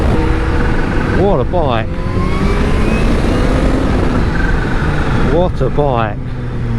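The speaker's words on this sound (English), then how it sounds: "The noise of this supercharger is awesome." A Kawasaki Z H2 supercharged motorcycle runs with a steady engine and supercharger whine under a voice, with two rising rev sweeps as he talks.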